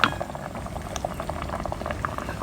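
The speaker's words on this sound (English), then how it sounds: "The water is boiling already." Soy sauce for chicken bubbles and simmers in a pot, a dense, quiet, continuous boiling with small pops, close by and without talk.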